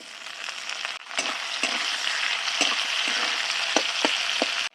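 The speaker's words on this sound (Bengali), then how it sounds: "কেটে রাখা দুটো পেঁয়াজ দিয়ে দিচ্ছি তেলে।" Chopped onions and tomatoes fry in hot oil for a fish curry, a dense continuous sizzle broken by short, sharp ticks of a spatula against the pan, close and fairly loud.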